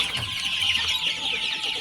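Farm chickens cluck close by as they gather to drink water, a steady busy chatter of several birds with no voices.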